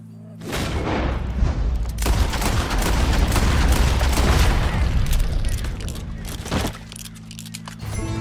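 A long, loud burst of gunfire aimed at an animal roars close by for several seconds, fading briefly and then flaring again near the end, with a low hum underneath and no talking.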